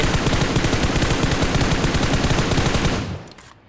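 A sustained stream of rapid automatic gunfire from other players in PUBG Mobile, loud and dense for about three seconds before cutting off abruptly into quiet.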